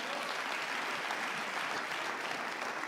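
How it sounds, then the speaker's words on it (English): A studio audience at a televised celebrity family game show claps in a short, steady burst of applause, fairly soft and distant, lasting a few seconds with no voices on top. "Men, this is not a good thing to clap for."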